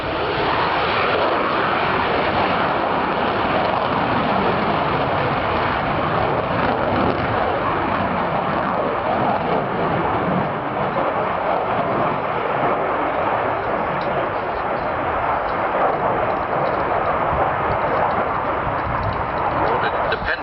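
A display jet from 43 Squadron, the Gamecocks, roars continuously overhead at the 1986 West Malling Air Show, a loud sustained engine rush with a commentator talking over it throughout.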